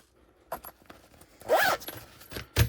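A metal number 5 zipper pull is threaded onto a bag zipper while sewing a backpack, with a few soft metallic clicks and a brighter scraping zip near the end, close and quiet, no talking.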